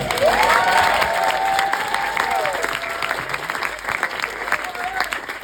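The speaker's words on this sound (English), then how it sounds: "So if we can have a round of applause for them." Wedding guests break into loud, sustained applause and cheering at a reception after a best man's speech. The clapping is thick and close, with a voice calling out over it early on before it gradually thins.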